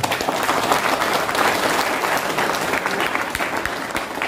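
Loud, dense applause from a workshop audience at a product presentation, a steady wash of many hands clapping that fills the whole moment with no clear break.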